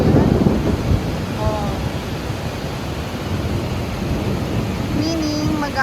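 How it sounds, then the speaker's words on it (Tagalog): Heavy rain pours steadily during a night thunderstorm in Kuwait, with a dense, constant wash of noise and low rumbling throughout. Faint high tones and brief whistling sounds rise over it. "Kulog at kidlat. All over Kuwait."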